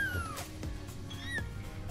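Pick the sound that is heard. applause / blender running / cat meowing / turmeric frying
cat meowing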